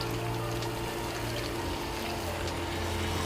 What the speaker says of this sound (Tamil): இதில் இப்போ வந்து கொஞ்சோண்டு தண்ணி சேர்த்துக்கலாம்.